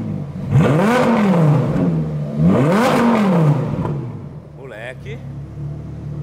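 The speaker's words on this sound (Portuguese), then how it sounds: "Ignorante, ronco, hein? É, tal do V10 é bonito mesmo, não, né?" A V10 engine, the same one used in an Audi R8, roars loudly through two rising and falling revs, each swelling over about two seconds, then drops away to a lower idle rumble.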